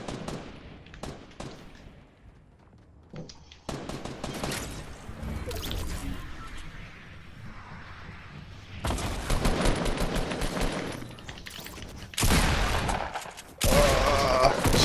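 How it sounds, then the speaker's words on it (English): Pump-shotgun blasts and other gunfire from the video game Fortnite: sharp cracks early on, then long loud bursts of firing near the end, separated by quieter game ambience. "Shotgun put me down so bad with that"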